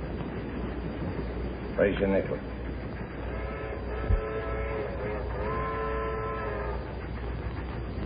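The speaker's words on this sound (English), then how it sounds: "That sounds like the train from Chicago." A passing train from Chicago rumbles past a small-town stop in the 1940s, its horn sounding in long sustained blasts under steady background rumble, with a card game's voices talking over it.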